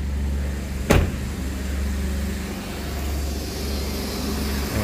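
A 2008 Jeep Grand Cherokee with a 4.7L V8 idles steadily after restarting, a low constant engine hum close by, broken once near the start by a brief sharp click or knock.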